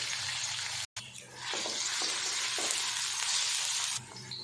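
Onions sizzle steadily in hot ghee, a dense close-up frying hiss that cuts out briefly near the start and then resumes at full strength to the end.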